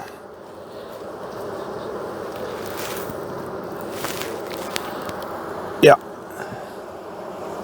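Honey bees buzz softly and steadily around hive frames during a January inspection, with a short sharp knock partway through and a brief spoken word.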